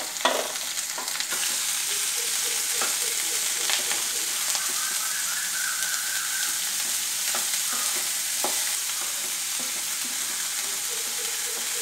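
Beans frying in a pan for Kerala thoran: a continuous bright sizzle with scattered clicks and scrapes of stirring, close and steady throughout.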